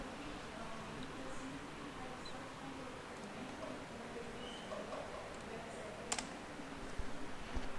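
Computer keyboard typing a compile command followed by a press of the enter key, soft faint clicks under steady background noise with a few sharper keystrokes near the end.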